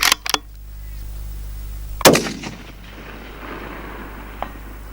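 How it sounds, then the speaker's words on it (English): Shots from a Howa HLR 6.5 Creedmoor rifle fired at long range: two sharp cracks open, then one loud close blast with a rolling echo, and a faint distant tap follows later. "Let's put some rounds down range."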